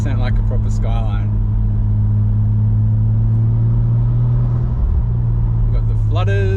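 A Nissan Skyline fitted with an HKS Hi-Power 409 exhaust idles nearby with a steady, deep, throbbing drone, while voices talk over it.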